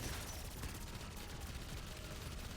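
Rapid, continuous automatic gunfire chewing through a boss in Black Ops 6 Zombies, a dense, steady stream of shots at low level with no talk over it.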